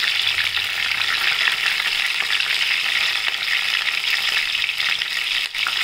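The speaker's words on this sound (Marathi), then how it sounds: "आता आपण हे सोनेरी रंग येईपर्यंत तळून घेऊया त्या तेलामध्ये." Brinjal frying in oil until golden, for a salty green-masala brinjal gravy; a continuous, fairly loud hiss and crackle of oil holds steady throughout, with no voices.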